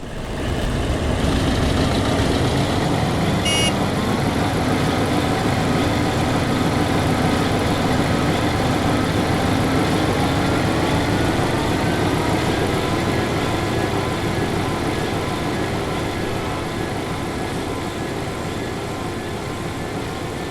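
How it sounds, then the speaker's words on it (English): A Ruston & Hornsby 48DS shunter locomotive in Train Simulator idles and works with a steady, loud, low diesel drone that runs continuously throughout. A brief high whistle-like tone cuts in near the start. "this tiny locomotive ironically makes an awful lot of noise, especially at full power"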